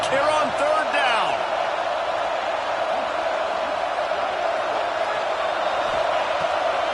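An Auburn football stadium crowd on third down makes a sustained, roaring wall of cheering, steady and loud throughout, with a voice talking over it and a few brief whistles near the start.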